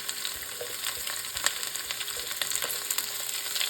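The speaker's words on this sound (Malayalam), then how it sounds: "സവാള ആഡ് ചെയ്ത് ഇതിന് എണ്ണയിൽ നല്ലപോലെ അതും വഴന്ന് വരണം" Sliced onion sizzles in hot oil with coconut pieces for a chicken curry, a steady close crackle broken by occasional stirring clicks.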